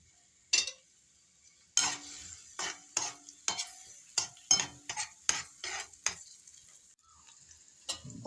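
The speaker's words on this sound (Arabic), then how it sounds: "ننزل بالبصل، قراطيق شرايح كده صغيرة،" Thin slices of onion stirred in a hot frying pan: a soft sizzle runs underneath a series of sharp utensil scrapes and knocks against the pan, roughly one every half second, close and clear with no talking.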